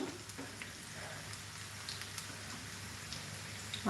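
Faint, soft crackle and scattered pops of potato and green chilli murukku dough frying in hot oil, a quiet steady sizzle with no voices.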